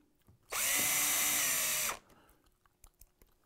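A power drill driving a screw around the house: one loud, steady whir lasting about a second and a half, starting and stopping abruptly, with quiet surroundings on either side.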